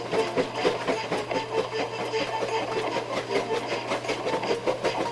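Thomas the Tank Engine, a small blue tank locomotive in the Trainz video game, chuffs away hauling a breakdown train, with a steady, fast puffing rhythm over a continuous low mechanical hum, fairly close and alone.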